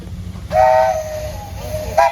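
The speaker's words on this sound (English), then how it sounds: "Grandson, you got a whistle." A steam whistle sounds at a steam and threshing show parade in Mason, Michigan, in two loud blasts: a long sustained tone followed by a short second toot, over crowd and engine rumble.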